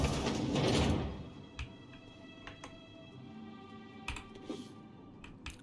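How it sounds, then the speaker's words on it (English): A hacked door in The Outer Worlds slides open with a brief loud whooshing mechanical surge, followed by scattered soft clicks and ticks in a quiet game scene. "I'm able to hack the door."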